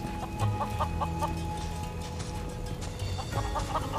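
Chickens in Final Fantasy 7 Rebirth cluck in short rhythmic bursts at the start and again near the end, fairly close, over a steady ambient game background.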